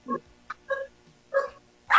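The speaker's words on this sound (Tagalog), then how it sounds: "mga aso po yun, sir. Aso. Tumatahol, oh." Dogs, including a puppy, yip and bark in several short, close bursts with brief gaps between them, alone without talk.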